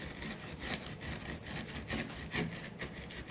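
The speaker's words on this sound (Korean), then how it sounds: "이제 그 홈이 난 데 패킹을 놓고 눌러주는 거죠. 자, 또 이렇게 쓱쓱 문질러주면 들어가죠." A roller presses a rubber gasket into the groove of a window screen frame, producing quiet, repeated scraping and rubbing strokes over a soft, steady background.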